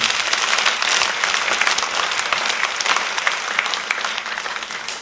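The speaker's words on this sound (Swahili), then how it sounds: "Ili tuatie moyo tena, tuwapigie wote makofi mazuri the youth." A church congregation at a Sunday service claps steadily in sustained applause for the youth, dense and even, fading slightly toward the end.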